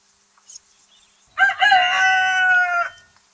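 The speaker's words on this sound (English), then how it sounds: "Rooster," A rooster crows once, a clear, loud cock-a-doodle-doo lasting about a second and a half after a short faint cluck, heard alone against silence.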